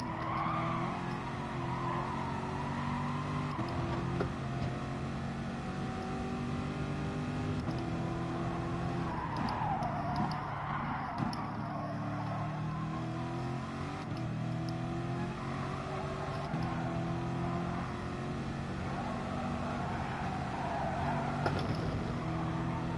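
Race cars in the Gran Turismo video game roar steadily and loudly throughout, their engine tones rising and falling with frequent tire skids and squeals.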